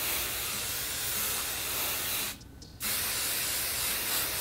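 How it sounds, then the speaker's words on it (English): Hairspray hisses from an aerosol can onto hair in one long, close spray, briefly broken by a short pause before the spray resumes. "As I choke on hairspray, let's finish this up."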